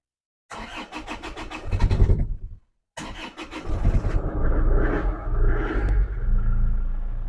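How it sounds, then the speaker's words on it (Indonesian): A black 2010 Isuzu Panther New Touring cranks briefly, pauses, then cranks again and fires up, settling into a steady close diesel-like idle with a few light revs. "Kita hidupkan ya Mas mesinnya ya."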